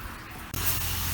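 A short spray hiss during motocross bike prep, starting abruptly halfway through and continuing steadily and fairly loud.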